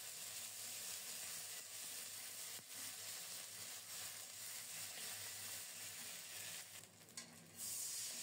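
Garlic, coriander, cumin and ginger paste fries in hot oil, giving a steady, dense sizzle throughout with faint stirring and brief dips near the end.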